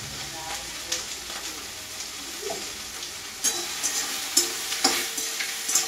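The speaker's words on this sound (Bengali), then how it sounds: "এবার আমি তেলের মধ্যে 5 ফোড়ন দেবো" Panch phoron spices crackle and sizzle in hot oil for charta tarkari, a continuous hiss broken by sharp clinks and scrapes of stirring that grow more frequent toward the end.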